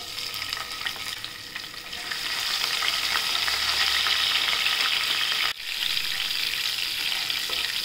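Green chillies frying in oil, a loud, steady close-up sizzle that swells and holds, broken briefly by a short stirring pause, with no voices.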